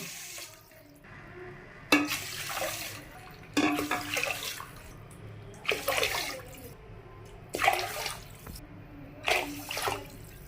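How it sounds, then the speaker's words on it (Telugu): Six glasses of water are poured one after another into a pot holding two glasses of washed rice, making a series of splashing gushes about every two seconds with quiet pauses between them. "రెండు గ్లాసులు బియ్యానికి నేను ఆరు గ్లాసులు నీళ్లు పోసుకుంటున్నాను"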